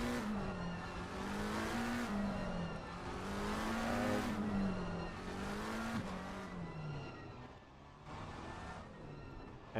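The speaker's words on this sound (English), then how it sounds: "Testai firing up his engine and starts the formation lap" GT3 race car engines in the Assetto Corsa Competizione racing game, formation lap start at Brands Hatch: loud sustained engine drone rising and falling through repeated revs and gear changes, with no talking.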